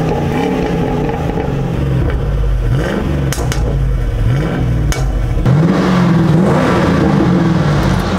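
A fifth-generation Ford Mustang with about 113,000 miles has its engine revved in a steady series of rising and falling throttle blips over a deep, loud idle rumble, heard close and alone without talk.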